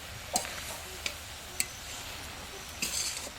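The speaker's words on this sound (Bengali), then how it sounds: "শাক ভাজছি" Home-grown leafy greens frying in a pan at a picnic, a quiet, steady sizzle broken by a few sharp taps and scrapes of a stirring utensil against the pan.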